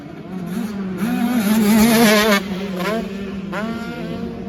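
A motocross bike on a fast qualifying lap at Vesoul, during round 4 of the French Elite Motocross Championship, its engine revving hard and whining, the pitch sweeping up and down as it accelerates and shifts, loud and close.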